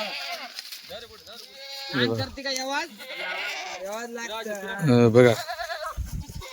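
Kathiyawadi goats bleat in long, wavering cries that rise and fall, loud and near, with people talking over and between the calls.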